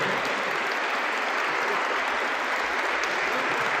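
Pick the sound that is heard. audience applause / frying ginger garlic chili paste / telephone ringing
audience applause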